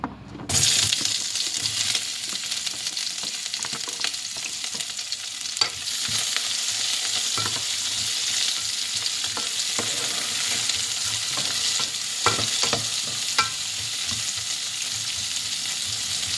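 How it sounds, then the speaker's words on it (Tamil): Onions drop into hot oil in a pan for liver pepper fry and sizzle loudly, a steady close crackle with occasional scraping stirs throughout, no voices. "இப்போ வந்து வெங்காயம் போடுவேன்."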